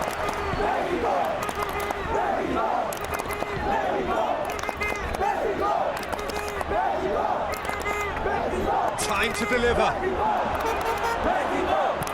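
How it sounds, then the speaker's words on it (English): Stadium crowd in a football video game simulation of Mexico versus South Africa, a steady roar of chanting and cheering throughout with a commentator's voice over it. "The crowd appreciates good football all round there"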